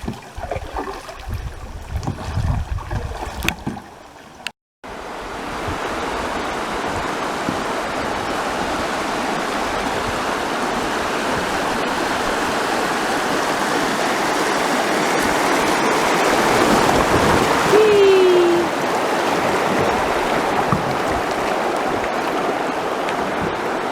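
The New River in North Carolina flows along its bank as a steady, broad rush of water, loud and close. It begins after a brief, uneven stretch of rustling noise and continues unbroken to the end with no voices.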